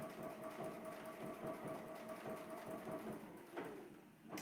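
A sewing machine runs steadily while free-motion quilting curved orange-peel lines, a soft, even, rapid stitching rhythm kept at a constant pace throughout, fairly faint and with no talking over it.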